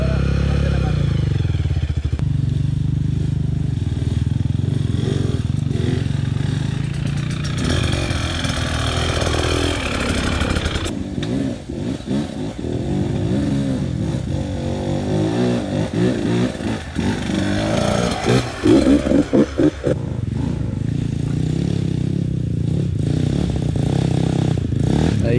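A motorcycle climbs uphill on a steep road at Floridablanca's Susong Dalaga, its engine straining loud and close for a long stretch, rising and falling with revs and rattly clatter throughout.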